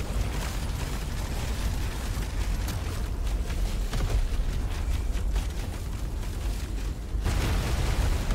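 Explosions pound and rumble in Deep Rock Galactic Survivor, a dense, loud run of booming blasts with scattered cracks. Near the end the roar dips briefly, then surges back.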